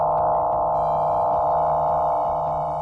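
Higher-pitched TARDIS door sound from the First Doctor serial The Edge of Destruction: a steady electronic hum with stacked tonal layers, a few faint flickers over the top, loud and continuous with no voices.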